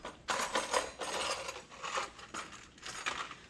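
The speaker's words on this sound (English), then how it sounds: "So we're gonna get the 15 millimeter and tighten these up." A 15 mm socket ratchet tightens brake and shock bolts on a Cobra, giving several quick bursts of close, fairly quiet metallic clicking and ratcheting with short pauses between them.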